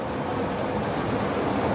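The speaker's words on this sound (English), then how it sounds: "Here comes the train." An Osaka Metro train pulls into a decorated station platform, a loud, steady rumbling roar of wheels and carriages that fills the whole moment.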